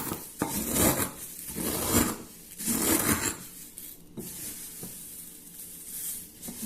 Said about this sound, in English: Cornflakes for the coating. Just crush it lightly.